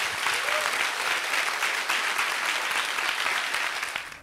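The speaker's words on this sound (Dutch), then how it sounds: "Geef hem een applaus, Frans Timmermans." An audience at a Dutch Labour Party (PvdA) event applauds Frans Timmermans, a steady, dense wash of many hands clapping close and loud for about four seconds before tapering off at the end.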